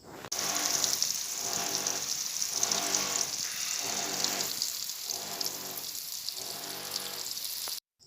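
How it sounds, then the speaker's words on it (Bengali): Potatoes frying in oil in a pan for an egg curry, a continuous close hiss and crackle with gently pulsing swells, running unbroken for several seconds before cutting off. "এবার ডিমের ঝোলের জন্য আলুগুলোকেও ভেজে নিচ্ছি"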